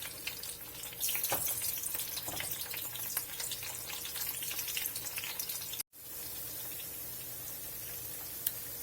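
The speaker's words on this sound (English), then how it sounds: "My pot is already hot, my pot with oil, so I'm going to start by putting my onions in there" Onions frying in hot oil in a pot for a Ghanaian okra stew, a steady close sizzle and crackle with no voices, cut off briefly near the end before the hiss resumes.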